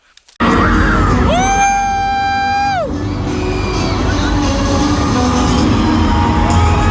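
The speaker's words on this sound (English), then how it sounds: "This was probably the loudest that I've heard the crowd in that entire day." Huge concert crowd at SM Town Live 2025 erupts into loud sustained cheering and screaming after a sudden start, with a gliding tonal sweep over the roar before it settles into a steady din.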